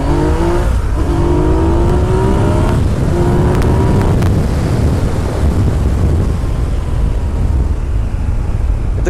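A quick motorcycle accelerates hard along a road, its engine note rising through several gear changes in the opening seconds before settling into a steady, loud roar buried in heavy wind buffeting.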